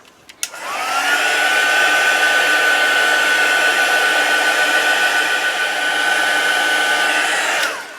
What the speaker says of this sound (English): I'm just going to heat set this now.